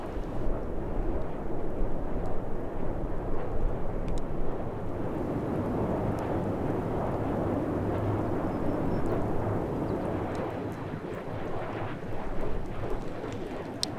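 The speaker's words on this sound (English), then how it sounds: "It sounds like just constant planes flying overhead. The sound of the turbines." Wind turbines at a wind farm in the Pacific Northwest give off a continuous broad roar, like planes passing overhead, steady and loud throughout with no voices.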